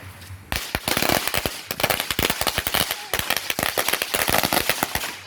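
A rapid barrage of firecrackers and small fireworks crackles and pops nearby during a July 4th celebration, dozens of sharp bangs in quick, irregular succession after a brief quiet start.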